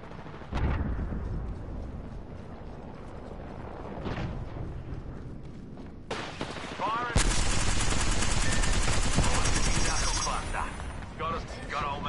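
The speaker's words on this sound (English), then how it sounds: "They're shooting at me." Rapid automatic gunfire in the video game Apex Legends, loud, dense bursts throughout with a sharper, brighter volley in the second half, voices talking underneath.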